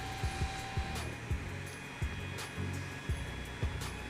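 A Creality Ender 3 Pro 3D printer just switched on, its fans producing a steady airy whoosh with a brief tone early on and periodic low thumps, close and continuous without speech.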